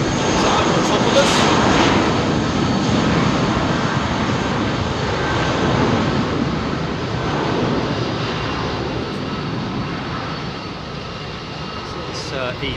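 An Embraer E2 jet departs London Heathrow runway 27R close by, its engines giving a loud, steady roar that holds across the whole stretch and eases only slightly toward the end, with a voice heard faintly beneath.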